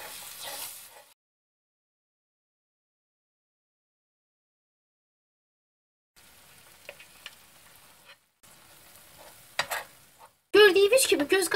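An onion mixture with added sour paste and oil stirred and frying in a pan, crackling sizzle in short bursts separated by a long silence, louder near the end.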